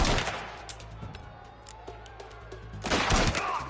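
Gunfire in Mafia: The Old Country on PS5: a few sharp shots in the opening second, then quieter rumbling, and a loud burst of blasts near the three-second mark.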